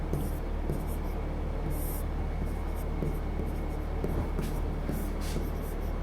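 Chalk or marker writing notes on a board during a Class 10 science lesson makes soft, irregular scratching strokes in short bursts over a steady room hum.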